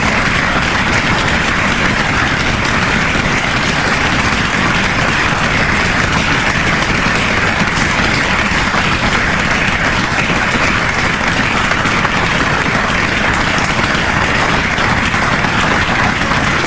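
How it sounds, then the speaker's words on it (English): A room full of guests applauds at a retirement dinner with the board of trustees, steady sustained clapping filling the space for about seventeen seconds with no break and no speech over it. "I ask you to join me in giving them a round of applause."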